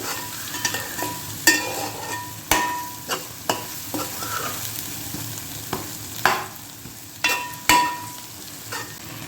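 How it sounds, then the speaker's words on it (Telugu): Sliced onions frying in oil in a pan for a Godavari village-style fish curry, with a steady sizzle broken by repeated scraping stirs of a spoon, close and fairly loud. "గోల్డెన్ బ్రౌన్ కలర్ వచ్చే వరకు ఆనియన్స్ వేయించుకోవాలి"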